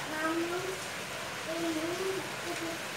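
Steady, even rain hisses outside an open door in a Bangladeshi home, a continuous wash of sound with faint tonal voices or calls drifting in now and then.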